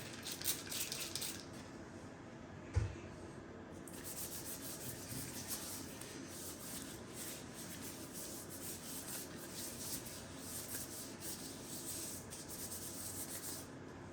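Gloved hands rub together in 70% rubbing alcohol while sanitizing for grain spawn inoculation, a steady, close, soft friction hiss that runs throughout with one sharp tap near the start, and no talking.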